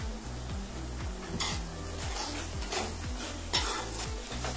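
Spiced masala for shahi paneer, with salt, sugar and cumin powder, sautéing in oil: a continuous sizzle with rhythmic spatula scrapes against the pan and occasional utensil clinks, close up and without voices.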